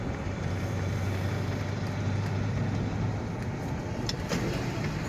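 A 2011 Ford Crown Victoria LX with a swapped-in 5-speed manual gearbox drives along while the driver downshifts, a steady close engine drone whose low tone shifts partway through, with no talking.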